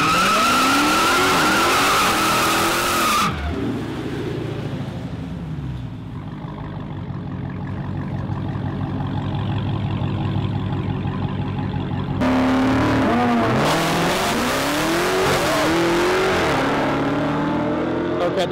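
A widebody Hellcat and a Lamborghini Huracan drag race in the video game Project MK7, with loud revving engines, squealing tires and skidding, a quieter stretch in the middle, then another surge of engine roar and squeal.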